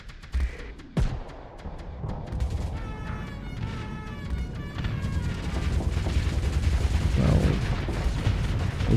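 Battleship guns fire in the space combat game Starsector: two heavy booming blasts open, followed by a dense rattling barrage of rapid shots that builds into a loud, continuous rumble.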